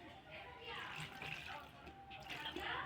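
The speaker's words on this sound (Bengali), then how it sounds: "পরিমাণ মতো জল দেব" Water poured into gram flour (besan) batter in a bowl, a soft continuous splashing trickle, fairly quiet and close, with a voice talking over it.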